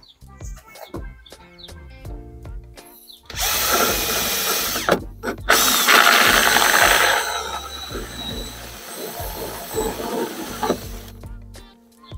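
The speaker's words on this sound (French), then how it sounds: "je vais commencer par percer la cuve" Power drill boring holes into a plastic rainwater collection tank, loud sustained whirring bursts in the middle of the clip between quieter handling knocks, with no talk.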